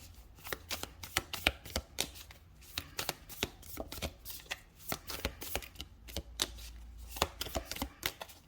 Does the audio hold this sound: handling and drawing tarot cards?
yes